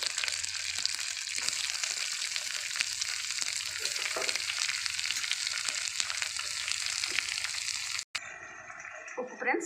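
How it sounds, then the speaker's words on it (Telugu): Onions frying in a pan for a curry, a loud continuous crackling sizzle close by, with a brief dropout near the end. "ఇప్పుడు ఉల్లిపాయలు వేసుకుందాం ఫ్రెండ్స్"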